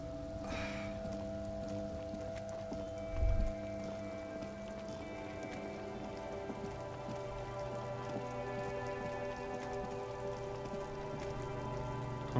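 Steady rain from the video game Disco Elysium, an unbroken wash of rainfall pattering on surfaces with a low droning hum beneath and one brief thump partway through, with no voices.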